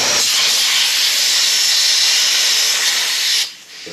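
Steady, loud hiss of air rushing out of an open tyre valve stem with the core removed, on a Ducati 900SS bevel restoration, blowing continuously for over three seconds before cutting off abruptly near the end.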